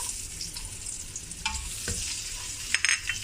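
Onions and chili padi sauteing in a hot wok for a chicken kicap dish, giving a steady soft sizzle with scattered stirring scrapes and clinks, fairly close, no voices.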